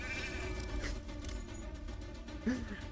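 Sheep bleat from a sheep polymorph spell during a video game arena match, a brief bleat rising out of a dense wash of game effects and music.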